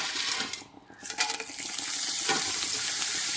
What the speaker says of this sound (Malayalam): ഇനി ബാക്കിയുള്ളതും ഇതേപോലെ വറുത്തെടുക്കാം.